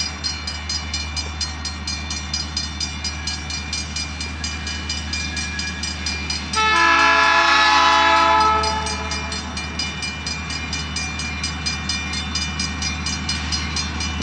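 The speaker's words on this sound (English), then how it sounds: "Train's coming, gates went up." A train rolls past a railroad crossing in steady, rhythmic clatter, and a loud horn blast sounds for about two seconds partway through before the wheels carry on alone.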